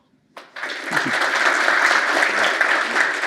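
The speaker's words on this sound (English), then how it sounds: "let's join in a big round of applause for Phil" After a brief silence, a large audience at a cybersecurity conference bursts into sustained applause for a speaker, a dense, even wash of clapping that holds steady and loud to the end.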